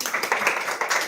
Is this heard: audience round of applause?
yes